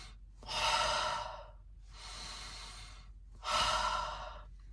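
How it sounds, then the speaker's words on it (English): Rhythmic breathwork demonstration: three deep, close breaths, slow forceful inhales alternating with softer exhales in an even cycle, alone with no talking. "3 rounds where you're breathing in like this"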